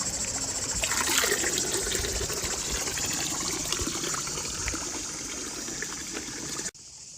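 Water being collected from a spring at Delphi, a close trickling and splashing flow that runs steadily and then cuts off abruptly near the end.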